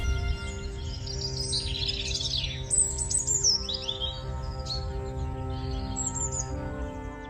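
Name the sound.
bird chirping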